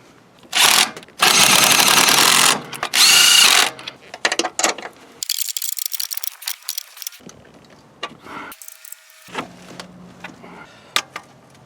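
A power tool, likely an impact or ratchet driver, runs in several loud bursts while tightening bolts on a 2007 Toyota Sienna water pump, followed by clinking metal and scattered handling noises.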